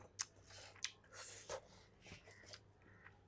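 Hot rice mixed by hand with ghee and mango pickle (aavakai) being chewed, soft wet chewing and smacking with a few sharp clicks, close and quiet, no talking.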